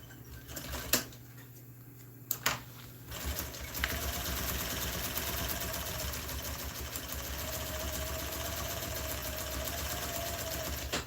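A steady mechanical whir runs continuously after a couple of sharp clicks at the start, a sewing machine stitching motor home seat upholstery at an even pace nearby.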